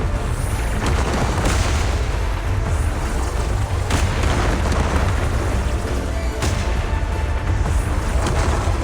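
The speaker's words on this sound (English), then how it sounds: "Move in during the gaps between explosions." Deep, rumbling explosions go off in Zenless Zone Zero, a loud, continuous roar of booming blasts with sharper bursts striking about every few seconds and no speech over them.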